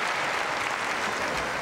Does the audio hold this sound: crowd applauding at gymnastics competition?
yes